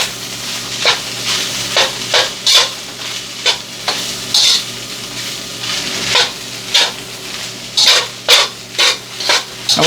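Filipino fried rice with scrambled eggs is stirred and scraped in a pan, loud close rhythmic scrapes and pushes of the spatula repeating over a constant sizzle, with no voices.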